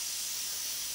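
A pressure cooker cooking harira soup lets off a steady, loud hiss of escaping steam, a continuous high, airy rush lasting the whole moment with no voices.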